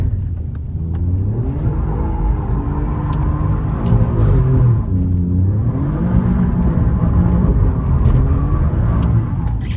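An Alfa Romeo Giulia QV engine revs up toward its rev limiter, a loud close rumbling roar rising and falling in pitch across several sweeps, heard alone without talk.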